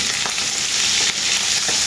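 Leftover pork paksiw frying in a pan, a loud, close, continuous sizzle with crackling spatter and faint stirring throughout.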